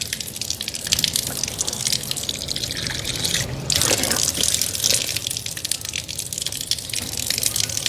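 Tap water gushes and splashes close by as a face is washed by hand, a loud continuous rush broken by uneven splatters and drips.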